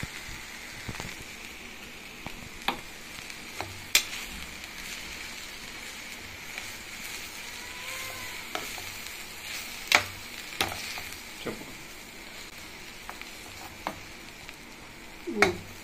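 Moringa leaves and toor dal fry in a pan, a soft continuous sizzle broken by sharp scraping clicks and taps as they are stirred, with no voices.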